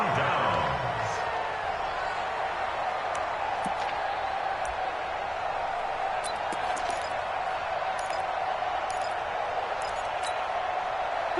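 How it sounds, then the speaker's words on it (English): A steady roar of stadium crowd cheering in an American football video game on PS4, sustained at an even level for the whole stretch as the home side holds on an opening drive, with small sharp ticks over the top. "this crowd loves it as their guys hold on the opening drive"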